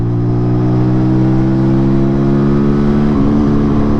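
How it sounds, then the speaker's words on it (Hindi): A 2025 TVS Apache motorcycle engine revs steadily and loudly as it accelerates through the gears, a strong continuous drone with a brief pitch dip near the end as a gear changes. "मोटरसाइकिल का इंजन काफ़ी अच्छा चल रहा है"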